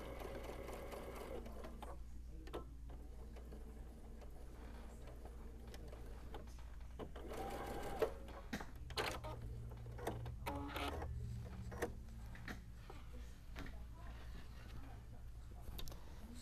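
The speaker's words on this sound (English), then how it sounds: "And I'm going to back stitch." Sewing machine back stitching a kitchen towel, a low, continuous motor hum with rhythmic ticking of the needle throughout, quiet and close.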